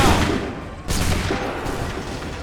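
A musket volley in Assassin's Creed 3, a loud close burst of massed gunfire with a second crack of fire following, then a rumbling, crackling tail of shots.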